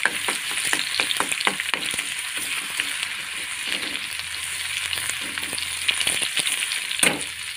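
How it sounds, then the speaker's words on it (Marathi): Minced garlic sizzles and crackles steadily in hot oil for an eggplant dish, a continuous close frying hiss with occasional stirring clicks and no talking. "1 चमचा लसूण बारीक करून घेतलेला आहे मी, याच्यात टाकणार आहे तेलामध्ये."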